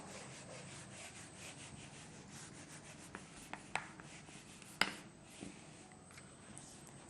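Chalk or marker writing on a board during a maths lesson, soft continuous rubbing strokes with a few sharper taps and squeaks, close and fairly quiet.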